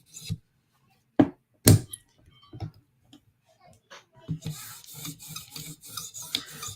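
A knife blade drawn across a 400 grit sharpening stone: a few separate close scraping strokes, then a quicker, steadier run of rasping passes.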